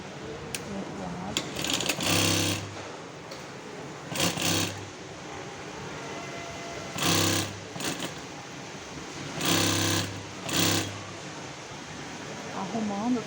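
Sewing machine stitching upholstery for a two-seat backrest, running in several short loud bursts separated by pauses, with a person talking between the runs.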